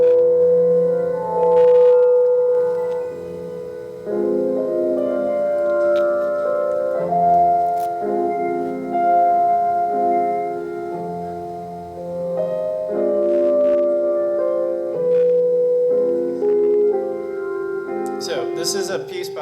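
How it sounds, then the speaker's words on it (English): Electromagnet-augmented grand piano, a magnetic resonator piano, plays a Satie piece: sustained, swelling harmonic tones that hold and shift smoothly without percussive attacks, steady and fairly loud throughout, with no talking. "It is a grand piano that is augmented with electromagnets."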